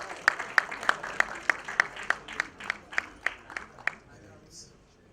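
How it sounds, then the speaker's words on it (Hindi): Audience at the Ek Villain Returns trailer launch claps in a steady, evenly spaced beat, about a dozen sharp claps in a row that stop abruptly, with faint voices underneath. "तालियां बजती रहनी चाहिए."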